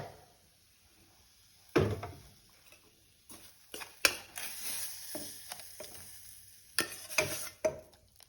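Hot tempering hits a pot of ridge gourd dal with a sudden loud sizzle, then crackles and spits in bursts before settling into a softer fizz, with a few stirring clinks along the way.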